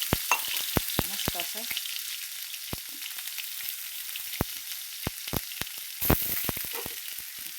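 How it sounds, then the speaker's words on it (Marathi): Spices tempering in hot oil in a kadhai, a steady sizzle with sharp crackles and pops scattered throughout and a metal spoon stirring now and then, with a few quiet spoken words. "बघा तुम्ही आता मी फोडणी देणार आहे बघा."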